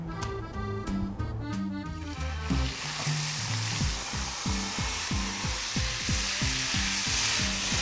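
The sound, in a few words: onions and peppers frying in oil in the steak pan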